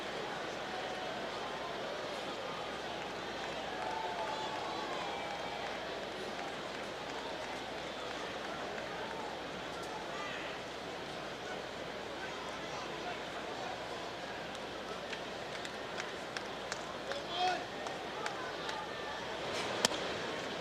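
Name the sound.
hushed Fenway Park baseball crowd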